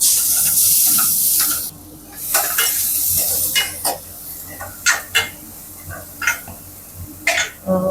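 Fennel seeds and onion hit hot oil for Kumbakonam kadappa and give a strong sizzling hiss that eases into lighter frying. Stirring sounds and spatula scrapes recur throughout, close up, with no talking.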